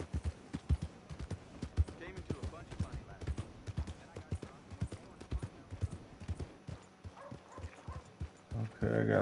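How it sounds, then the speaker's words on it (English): Horse hooves clip-clopping in the video game Red Dead Redemption 2, a steady rhythmic series of close, crisp hoofbeats, with people talking over them. "I got that horse tied up"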